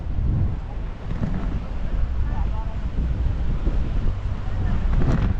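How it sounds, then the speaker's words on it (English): Steady wind buffets the microphone on the coast of Ibiza in October at sunset, a constant low roar with gusts and no speech in the clip. "It's a little bit windy"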